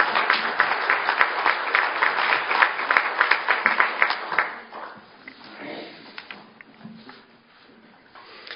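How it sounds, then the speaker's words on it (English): A round of applause at a tribal council meeting, dense clapping from a seated audience that holds steady for several seconds and then thins out and fades to scattered claps. "Let's give her a round of applause."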